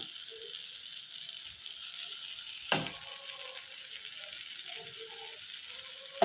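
Ridge gourd stir-fry with onion added frying in a pan, a faint steady sizzle with a sharp clatter of a utensil against the pan midway and another at the end, heard alone without speech.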